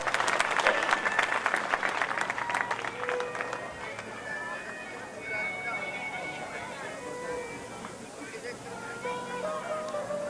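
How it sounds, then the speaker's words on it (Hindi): Audience applause at a Ram Katha religious gathering in Kohand, Haryana, a dense burst of clapping that is loudest at the start and tapers into a steadier crowd patter, with background murmur and a voice over it. "एक बार फिर जोरदार ताली।"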